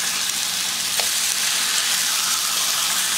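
Tilapia fillets fry in a hot pan with a steady, loud, close sizzle that holds evenly throughout, with faint crackles and no voices.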